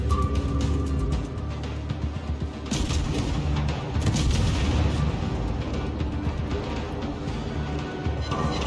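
Naval guns fire and shells land in the World of Warships video game during a Tier V co-op battle, with dense rumbling booms and bursts overlapping steadily under a continuous mechanical background.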